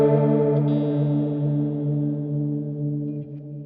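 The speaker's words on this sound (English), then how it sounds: "You can sort of hear some of the pulsing that's going on there." A sustained guitar tone through a Strymon Nightsky reverb pedal, drenched in reverb, swells and pulses gently in volume from its modulation, ringing on without any voice.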